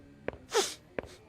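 A single sharp sneeze from a person, a short forceful burst between two brief catching breaths, close and fairly quiet overall.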